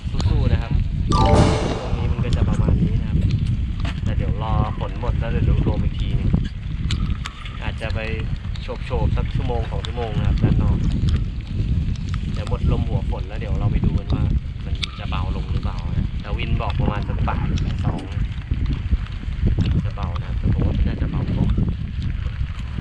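Strong storm wind roars steadily over churning sea waves with rain, a constant wash of noise as someone talks loudly over it.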